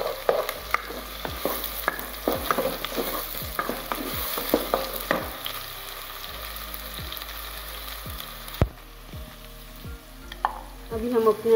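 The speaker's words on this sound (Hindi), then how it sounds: "जी तो हमारा प्याज थोड़ा हो गया, इसको ज़्यादा डार्क ब्राउन नहीं करना है" Onions with garlic and ginger frying in a pan, giving a steady sizzle broken by repeated scraping stirs of a spoon, close and moderately loud with no talk.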